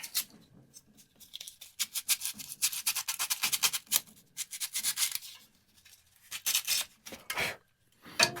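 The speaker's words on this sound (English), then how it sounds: "we're just going to take some sandpaper and dress that up a little bit" Sandpaper rubbing crusty metal parts on a Toro Power Shift 828 snow blower, close rhythmic bursts of scratchy strokes with short pauses between them.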